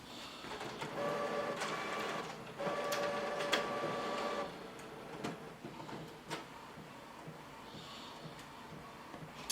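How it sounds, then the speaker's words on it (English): An Epson WorkForce 7840 printer at work, with two bursts of mechanical whirring and feeding, scattered clicks and clunks between them, heard up close and without talk. "the reason why we got this printer"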